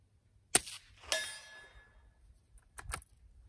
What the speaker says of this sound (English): Hitting the steel is way louder than the gun shooting.